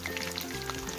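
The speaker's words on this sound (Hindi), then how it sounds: "तो ये तेल गरम हो गया है और अम्मी ने इसके अंदर डाल दिए हैं चिकन के पीसेस" Masala-coated chicken pieces sizzle in hot oil, a close, constant crackling hiss with small popping bursts throughout.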